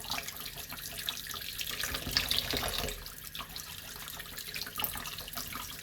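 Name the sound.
washing ginger under running tap water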